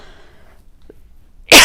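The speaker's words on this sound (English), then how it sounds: "apologies for coughing into the microphone" A single sharp cough bursts out close to the microphone after a near-silent pause.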